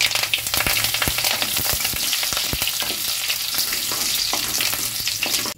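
Curry leaves, black mustard seeds and dried chilli crackle and sizzle loudly in hot oil for a coconut chutney tempering, a dense steady hiss dotted with sharp pops and spatters, with a brief stir, no voices.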